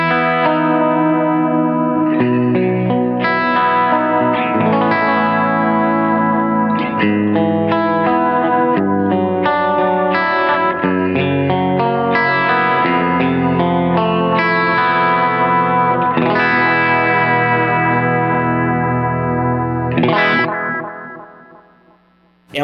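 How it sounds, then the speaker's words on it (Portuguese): Electric guitar through a Seymour Duncan Vapor Trail analog delay, with modulation acting only on the repeats: a flowing clean melodic line rings with wavering echo tails, steady and close, then fades out before a final sharp hit. "é uma modulação que atua só na cauda e o efeito é esse"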